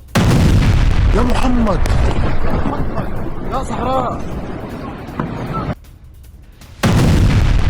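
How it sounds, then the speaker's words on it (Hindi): Loud booming blasts from Iranian missile strikes, with a roaring rumble and chaotic crowd shouting over it, briefly dropping before the heavy roar returns. "तेज धमाके के बाद पूरे इलाके में आग लग गई जब ये मिसाइल गिरी।"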